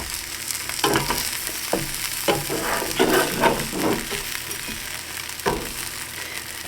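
A pickle and bacon grilled cheese sizzles in a pan, with steady frying hiss under intermittent scraping and shuffling as it is moved about, close and fairly loud with no talk.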